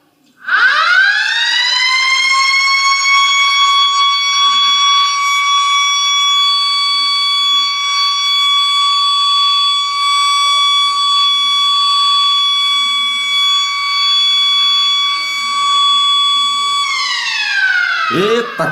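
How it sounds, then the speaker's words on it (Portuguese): A school siren is pressed to signal the start of class, sounding a loud, steady multi-tone wail that holds for about sixteen seconds and then winds down at the end. "apertar a sirene com força. Então começou a aula de matemática."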